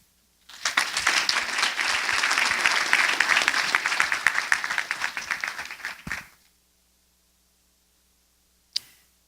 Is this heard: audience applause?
yes